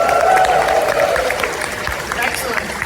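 A convention audience claps and cheers at a furry convention opening ceremony, with sustained applause filling the hall while a voice speaks over it.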